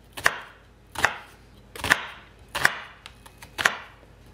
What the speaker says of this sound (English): I want to show you guys how to cut a shallot.